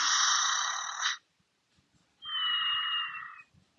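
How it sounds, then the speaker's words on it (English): Electronic snoring from a LEGO Pokémon Smart Play toy figure lying on its side: two drawn-out, buzzy tonal breaths separated by a short pause, close and moderately loud with no voices. "The snoring sounds are kind of cute."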